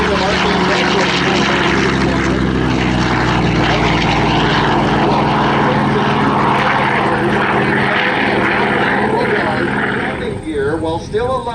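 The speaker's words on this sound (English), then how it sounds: "as we launch our Corsair and take our story to the Pacific Theater" A Vought F4U Corsair propeller fighter launches at an airshow, its loud, steady engine and propeller drone filling the scene under a commentator's voice, easing slightly near the end.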